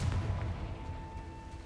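Confringo fire spell blasting in Hogwarts Legacy, a deep rumbling explosion heard alone with a low boom that gradually fades over a steady tonal background hum.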